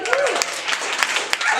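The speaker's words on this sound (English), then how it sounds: "Give me a round of applause." Comedy club audience applause at a comedy night at AS220: brief, dense clapping from a crowd, with voices mixed in.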